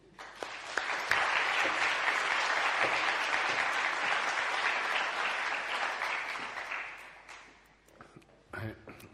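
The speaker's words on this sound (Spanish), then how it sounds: "les voy a pedir que le demos a Javier de Felipe un aplauso de bienvenida." An audience gives a welcoming round of applause to a speaker at a lecture event on beauty, art and the brain, steady dense clapping that swells quickly, holds for several seconds, then fades out with a few last claps.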